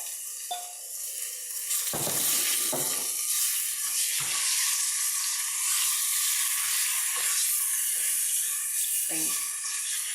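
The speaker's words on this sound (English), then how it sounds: "Now you see that the onion is more brown than before, so we can add the meat." Ground meat added to browned onion and oil for bolognese sauce sizzles loudly and steadily in the pan, a bright continuous frying hiss broken by occasional stirring scrapes and clinks.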